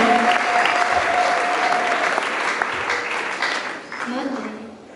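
Sustained applause from a church congregation at a Rwandan refugee-city gathering, a dense steady clapping that holds strong for several seconds before thinning out toward the end.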